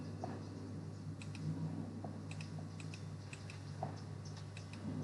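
Rapid light key clicks of a computer-keyboard typing effect in animation software, irregular bursts of tapping over a low steady hum, with no talk.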